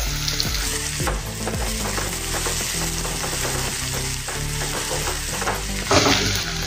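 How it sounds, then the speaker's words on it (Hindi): Chopped onions and green chillies sizzle loudly in a pan, a dense continuous crackle broken by the scrape of a stirring spoon and a brief louder hiss near the end. "इसको हम कलर आने तक भून लेंगे प्याज को।"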